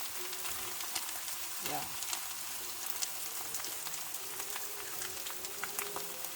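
Three eggs frying in a pan for egg fried rice, a soft, continuous crackling sizzle, fairly faint, with a person briefly speaking over it.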